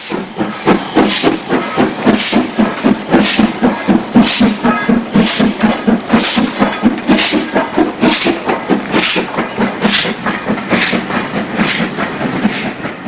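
Stanier 8F steam locomotive 48773 works hard with loud, steady exhaust chuffs about once per second over a continuous hiss of steam and rolling rail noise, with no voices.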